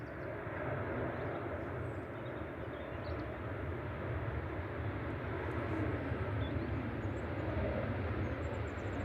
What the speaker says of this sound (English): Ryanair 3243 from Béziers in France. 737-800 EKT. Rolling out.